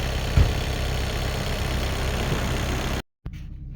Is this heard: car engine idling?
yes